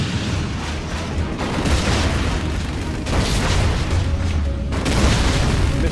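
A cruise missile launched in the C&C Rise of the Reds strategy game, heard as a loud booming rumble with sustained roaring blasts and bursts layered over dense battle noise.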